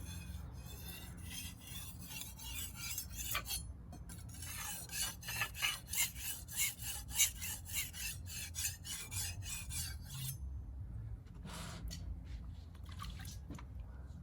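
Kitchen knife drawn steadily back and forth across a Jasper whetstone, a continuous wet rasping scrape with even strokes that swell and fade in rhythm, close and moderately loud with no talking.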